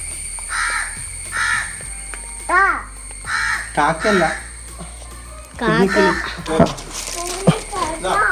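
Harsh, caw-like bird calls repeat again and again at close range, some drawn out and some clipped, with brief pauses between them.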